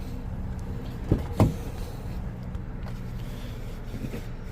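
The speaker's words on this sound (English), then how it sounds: "Let's see what it looks like when you fold down the other seat." The rear seat of a 2024 Toyota Tacoma SR is folded down, giving two quick thumps and clunks against a quiet cabin, faint and close by.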